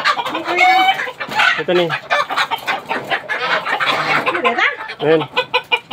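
Chickens, including a rooster, cluck and squawk continuously and loudly at close range on a Filipino farm, with people talking among them.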